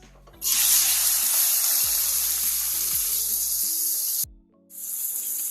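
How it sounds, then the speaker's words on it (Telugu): Cleaned mutton spleen hits hot oil and erupts into a loud, steady sizzle that holds for several seconds, briefly cuts out, then resumes more softly. "ఆయిల్ వేడైన తర్వాత క్లీన్ చేసి పెట్టుకున్న తిల్లి వేసుకోవాలి"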